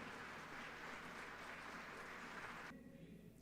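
A church congregation applauds, with dense, steady clapping from a crowd that fades out toward the end.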